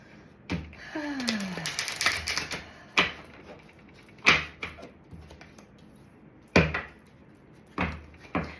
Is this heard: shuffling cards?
yes